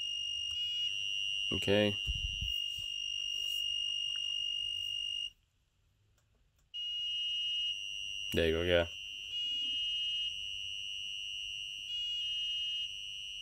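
Arduino active buzzer on an Elegoo Uno R3 sounding a steady, high, piercing tone that cuts out briefly and then returns, with a person talking over it twice.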